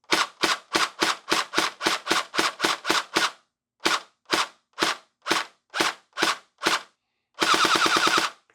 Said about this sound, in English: it actually fires pretty well just pulling the trigger quickly as a single fire